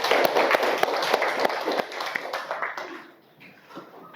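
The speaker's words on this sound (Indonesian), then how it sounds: "Berikan tepuk tangan untuk kita semua" Classmates in a mathematics classroom clap together, a dense burst of sharp hand claps that is loud at first, then thins out and fades away after about three seconds.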